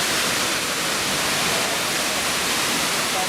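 Strong wind roars at a waterfall in Gorges State Park, a steady, loud, close broadband rush of air and falling water with no pauses throughout.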